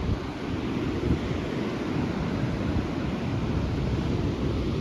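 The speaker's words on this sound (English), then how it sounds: "See where the ocean just washes away when we get the big swells." Ocean swells wash against the coastal cliffs by the Twelve Apostles on the Great Ocean Road: a continuous, fairly loud surf roar mixed with gusting wind buffeting the microphone, with no talking.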